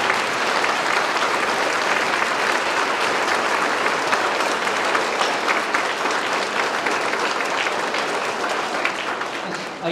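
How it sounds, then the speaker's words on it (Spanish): Loud, sustained applause from a crowd at a patron saint festival for the Virgen del Refugio, steady clapping filling the whole stretch without a break. "Vamos a darles un fuerte aplauso."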